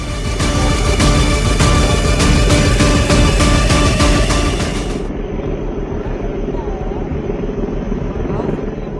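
A rescue helicopter flies over stranded ropeway cabins at the Trikut ropeway accident site, its loud, steady rotor and engine roar dominating for the first half before dropping to a lower, continuing drone.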